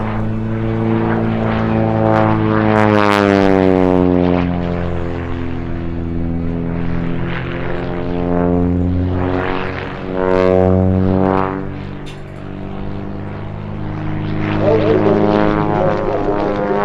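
An Aviat Pitts Special S-2B aerobatic biplane with a 260 hp engine performs at an airshow display in Ede, its propeller engine droning loudly and shifting in pitch as it swoops past, with a commentator talking over it.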